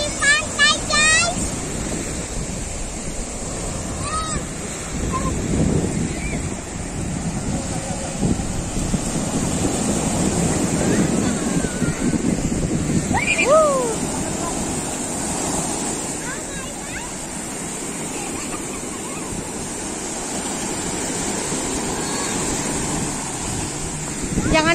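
Waves wash onto a beach in a continuous roar while wind buffets the microphone; voices and a few bird chirps come and go in the background at Sambolo Beach, Anyer, Banten.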